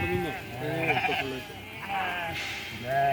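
A herd of goats on farmland bleats repeatedly with wavering, overlapping cries, some close and loud, over a steady background hum.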